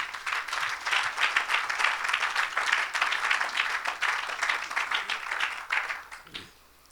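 Applause from an audience at a Christian church gathering, steady dense clapping close and loud for several seconds, then fading out quickly at the end.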